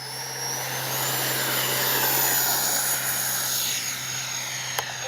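A twin 70mm Su-27 RC jet, with its electric ducted fans making a steady loud whine and rush as it flies a pass, continuous for a few seconds, with no talking.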